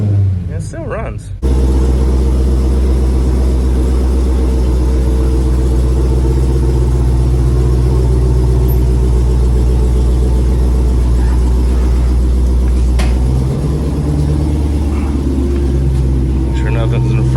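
A damaged Dodge Demon's engine starts and settles into a loud, deep rumbling idle nearby, running steadily with a slight rise in revs toward the end.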